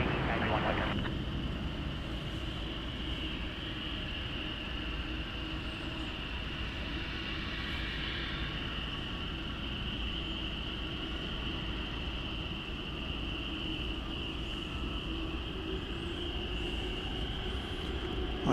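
Fiji Airways Airbus A350-900 taking off at DFW Airport at night, a distant, fairly faint steady jet roar with a sustained high whine, under intermittent talk.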